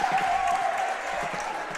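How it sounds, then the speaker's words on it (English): A crowd applauds at halftime of a varsity boys basketball game between Crosspointe and Suburban, a steady, dense wash of clapping and cheering filling the gym. "as you can hear the applause from the crowd"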